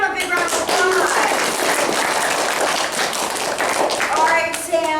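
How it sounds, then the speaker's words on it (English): Live audience applause for a contestant at a stage show: dense, steady clapping throughout, loud and fairly close, with cheering voices mixed in. "Sam, let's give Sam a big round of applause."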